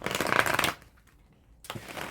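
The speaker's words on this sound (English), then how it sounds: "So now let's shuffle her cards here." Cards riffle loudly in a rapid fluttering burst, a brief quiet pause follows, then a second riffle starts, all close up.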